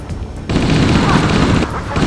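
Dense burst of video-game gunfire and explosions during a firefight, loud sustained rattle with booming impacts, a quieter stretch at the start, and a voice calling out beneath the din.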